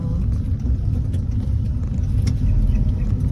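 Road traffic heard after an early-morning 5 km run, a loud continuous low rumble of cars passing nearby, steady throughout with no voices.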